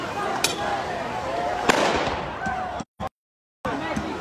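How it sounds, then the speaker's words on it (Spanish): Detonations from police patrol cars burning during a violent street protest, with scattered sharp pops and cracks over a noisy crowd-like background and a voice talking, before the sound briefly cuts out. "Se escucharon algunas detonaciones por la quema de el"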